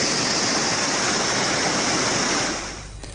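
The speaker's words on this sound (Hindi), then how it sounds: "पानी के बहाव के साथ ऊपरी इलाकों से मिट्टी और मलबा बहकर तेजी से नीचे की तरफ आ रहा है।" Floodwater in Kashmir rushing downhill with mud and debris, a loud, steady, close roar of churning water that fills the whole clip and eases off slightly at the very end.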